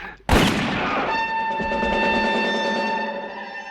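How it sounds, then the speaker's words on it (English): A single loud gunshot rings out in a Western film scene from The Good, the Bad and the Ugly, with a sharp crack followed by a long sustained ringing tone that fades slowly. "the scene where Han Solo shoots Greedo resembles this scene from The Good, the Bad, and the Ugly"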